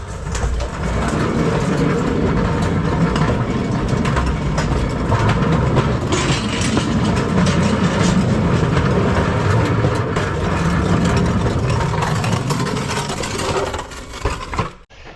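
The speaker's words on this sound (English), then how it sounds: "This is my electric tunnel cart we're on." An electric cart rolls through a hand-dug underground tunnel, giving a continuous loud rumbling, grinding ride noise with steady motor whine that carries on for the whole stretch before abruptly cutting off at the end.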